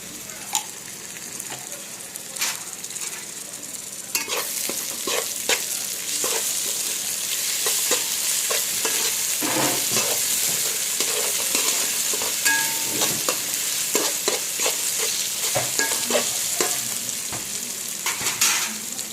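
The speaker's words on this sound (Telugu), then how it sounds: "ఇదండి ఆనియన్స్ మంచిగా వేగుతున్నాయి, మంచిగా వేగనివ్వండి." Onions frying in a pan as the base for mutton curry, a loud, steady sizzle running throughout, broken by frequent scraping and clicking as the onions are stirred.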